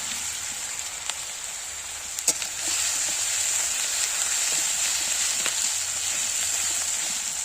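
Onion and garlic paste frying in a pan for a doi begun (eggplant in yogurt) dish, giving a steady close sizzle that swells after a couple of seconds and holds, with a few faint clicks of a utensil.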